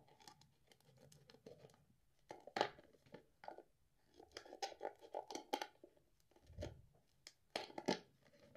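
Scissors snip through a plastic seedling container to cut a drainage hole, producing quiet, irregular crunching and scraping cuts in several bursts, with no speech.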